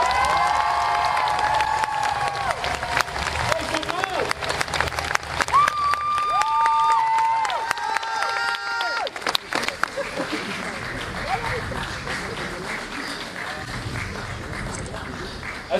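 Studio audience applause at a French talk show taping, a loud continuous clatter of clapping with some cheering, mixed with host talk and bright musical tones over the first half before the applause carries on alone.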